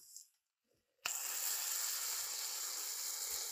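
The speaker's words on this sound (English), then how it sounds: "This bacon is cooking." Bacon sizzles pressed between hot hair straighteners: after a quiet moment a sudden steady hiss starts up and keeps going, close and fairly even.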